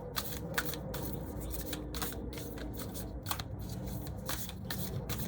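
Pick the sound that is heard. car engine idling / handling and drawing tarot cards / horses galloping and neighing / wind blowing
handling and drawing tarot cards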